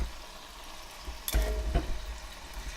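Shrimp and garlic cook in oil in a pan with a soft, steady sizzle, broken by a sudden louder hiss and clatter as the pan is stirred or moved, then settling back to a quiet fry.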